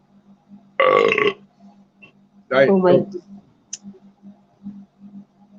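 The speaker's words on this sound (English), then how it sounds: "I'd rather belch and taste it than to fart and waste it" Two loud, close belches about two seconds apart, with the low steady hum of an air conditioning unit in the background.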